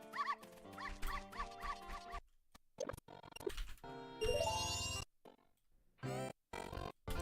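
Cartoonish dog barks and yips ring out during a video game dog race, with chiming game music and jingles around them, in short bursts that stop and start.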